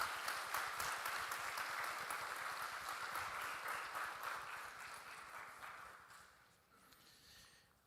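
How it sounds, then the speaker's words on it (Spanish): A church congregation applauds a family arriving at the service, sustained dense clapping that carries steadily for several seconds before thinning and fading toward the end. "Un aplauso a esa familia que está llegando ahí"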